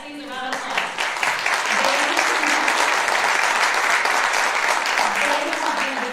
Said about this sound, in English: They have, yes, please, a round of applause.